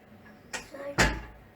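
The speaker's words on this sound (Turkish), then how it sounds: "Kapıyı kapat." A door swings shut indoors in a home, a soft bump followed about half a second later by a louder, heavier thud close by, with no talk over it.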